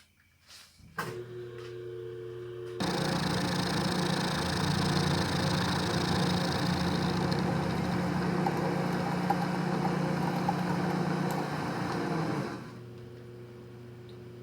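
A bandsaw cuts off the excess metal from the bottom of a bolt part, starting with a few clicks and a motor whir, then a loud steady grinding cut for about ten seconds before winding down and stopping.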